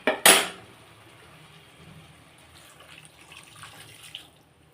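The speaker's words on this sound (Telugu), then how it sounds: "ఇప్పుడు కొంచెం నీళ్ళు పోద్దాం." Water poured into a cooking pot for a tomato curry: a loud splashing gush at the start that quickly fades to faint trickles and a few small clinks, close by.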